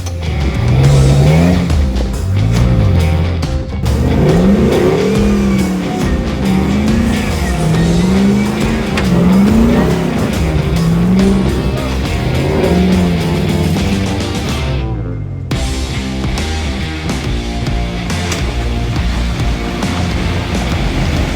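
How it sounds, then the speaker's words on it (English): A supercharged off-road vehicle's engine drones loudly and continuously on steep trail terrain, its pitch rising and falling in repeated surges as it climbs, with a brief dip midway. "Listen to that supercharged whine."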